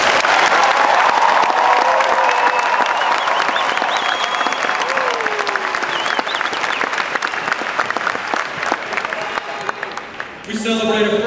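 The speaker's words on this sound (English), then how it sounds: "Let's give our graduates a round of applause." Sustained loud applause fills a hall at a high school graduation ceremony, dense clapping from a large crowd with a few faint voices mixed in, tapering slightly before a voice begins at the very end.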